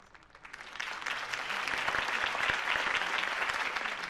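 A crowd in the video game Batman: The Telltale Series breaks into applause, swelling from a quiet start into steady, full clapping that carries on to the end.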